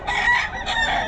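A broodcock rooster crows loudly and close by in two strained, rising bursts with a short break between them, with no talking over it.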